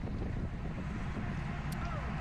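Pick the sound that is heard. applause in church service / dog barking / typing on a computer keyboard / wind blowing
wind blowing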